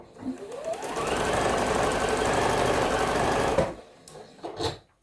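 A sewing machine stitching over a quilt seam, a steady fast mechanical whir running for several seconds, close and loud, then stopping, followed by a few short handling clicks.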